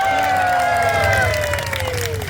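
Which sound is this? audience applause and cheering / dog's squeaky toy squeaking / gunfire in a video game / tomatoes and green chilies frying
audience applause and cheering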